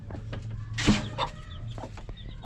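A mother hen clucks softly with her small chicks tucked underneath her, giving a few brief low calls and faint peeps close by under a steady background hum.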